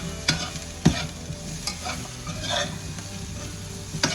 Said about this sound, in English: all the peppers are going in